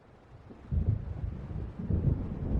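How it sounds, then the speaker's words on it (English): Low rumbling thunder from an approaching storm over open water rolls in softly, swelling in two broad, muffled surges with wind-like noise beneath, in Alan Wake Remastered. "It seems there's a storm coming."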